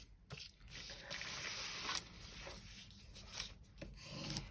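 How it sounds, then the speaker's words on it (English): Paper being burnished by hand while layered side pockets are made: a steady, faint, close rubbing and scraping that runs almost continuously, with slight swells in pressure and no talk. "Burnishing, I think, is what I should be saying."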